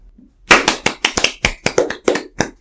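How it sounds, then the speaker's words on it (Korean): Applause from a small group at a football talk show, about a dozen sharp, close hand claps in an uneven rhythm, with no voices over them. "박수."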